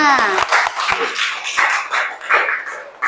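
Students in an Arabic-language classroom clap together in short, uneven bursts, the sound close and mixed with voices talking over it.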